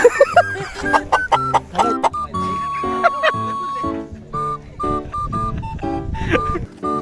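Chickens cluck in a coop in short repeated bursts, fairly close, with overlapping calls and a few rustling knocks around them.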